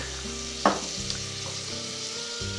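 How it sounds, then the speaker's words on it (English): Garlic sizzles and fries in a pan, a steady close crackle with a brief sharp clatter early on, as if from stirring, and no voices over it. "We're going to add our garlic"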